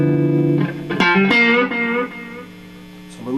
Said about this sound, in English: Delay, little delay, and little reverb on the delay only.